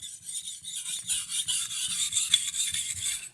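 A knife blade stroked by hand across a waterstone, a steady series of soft rasping passes in quick rhythm, close and fairly quiet, with no voices.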